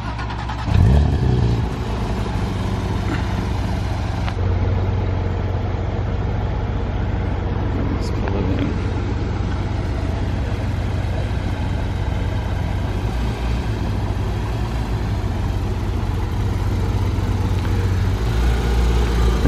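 Sapphire blue Porsche GT3 engine running with its headers removed, a loud, close, raw idle with a few revs near the start, holding a steady throbbing rumble throughout, no voices.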